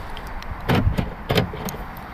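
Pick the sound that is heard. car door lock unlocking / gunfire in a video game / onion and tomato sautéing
car door lock unlocking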